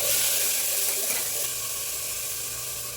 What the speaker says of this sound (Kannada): ಇವಾಗ ಇದಕ್ಕೆ ಸಾಸಿವೆ, ಕರ್ಬೇವಿನ ಸೊಪ್ಪು, ಕಟ್ ಮಾಡ್ಕೊಂಡಿರೋ ಈರುಳ್ಳಿ ಮತ್ತು ಟೊಮೆಟೊ ಇಷ್ಟು ಸೇರಿಸ್ಕೊಳ್ಳೋಣ